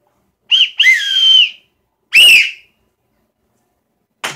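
A whistle is blown in three separate bursts: two close blasts, a longer warbling one after a pause, then a short clipped toot at the end, loud and near against silence.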